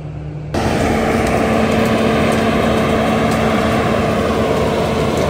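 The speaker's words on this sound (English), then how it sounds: "Bobcat is sinking when we do the deep grind" A Bobcat skid steer runs a CONETEKS 2.13 m grinding attachment on soft, swampy ground. A loud, steady engine and grinder drone cuts in abruptly and holds at constant volume, close by.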